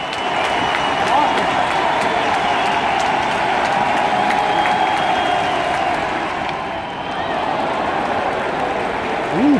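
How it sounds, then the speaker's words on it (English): A large baseball stadium crowd at a Yankees–Twins game roars and cheers continuously, loud and sustained, with scattered claps and shouts in a full count, briefly dipping before swelling again. "Listen to the crowd."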